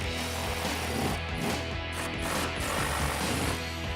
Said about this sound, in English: All you have to do is remove 2 18mm nuts from the studs securing your rear seats.